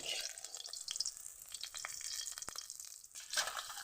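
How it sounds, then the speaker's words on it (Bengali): Steady sizzling of food frying in hot oil, with a few sharp crackles and pops over a continuous hiss. "মাছ ভাজা হয়ে গেছে তুলে নেব"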